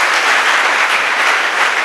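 Audience clapping at a Gandhi Jayanti awareness programme against addictions, a steady, dense burst of applause heard alone at close range for a couple of seconds.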